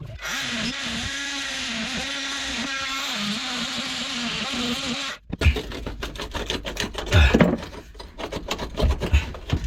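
Oscillating multi-tool cutting through a pipe buried tight in a wall near a stop tap, a steady loud buzzing drone for about five seconds, then the blade stops and uneven knocks, scrapes and rattles of handling the cut pipe follow.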